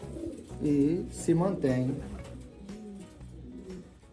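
A brooding pigeon sitting on its eggs in a loft gives deep, throaty cooing calls in a few close, rolling bursts, with someone talking softly at the end.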